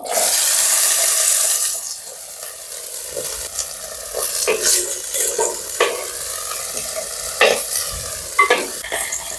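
Peeled shallots frying in cold-pressed groundnut oil for Pallipalayam chicken, a steady close sizzle broken by repeated scraping stirs, with a loud bright hiss at the start that eases into continuous frying.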